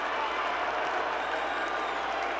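A big arena crowd at a WWF wrestling show claps and cheers in a steady, full roar that holds constant throughout, loud and unbroken.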